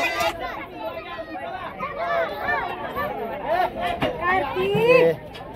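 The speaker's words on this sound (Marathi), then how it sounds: "प्रसादासाठी किती गर्दी आहे बघा." Crowd chatter in the prasad queue at the Shri Panchalingi Mahadev temple in Katphal, with several nearby voices talking over one another against a busy background murmur.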